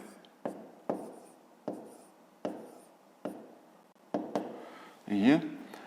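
Pen or pencil writing by hand on paper while working a 5th-grade maths subtraction problem, a series of short scratchy strokes at regular intervals, close and fairly quiet, with a brief louder rustle near the end.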